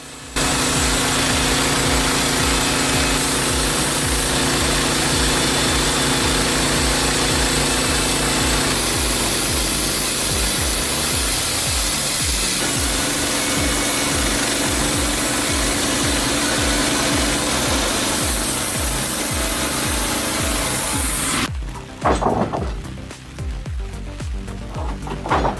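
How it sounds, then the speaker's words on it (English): A firewood processing machine runs loud and close, its engine droning steadily with a rhythmic mechanical chug for about twenty seconds before it cuts away to rougher, uneven clattering noise. "Firewood processing becomes considerably easier with dedicated bench-mounted systems."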